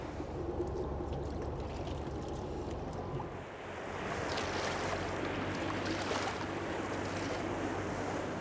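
Running water pours steadily while something is washed, a constant splashing rush with a brief dip partway through, and no voices.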